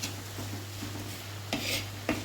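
A spoon stirs coriander powder and Kashmiri chili powder in a pan for a backwater fish curry with kudampuli, giving soft scraping strokes with a few louder clinks against the pan near the end.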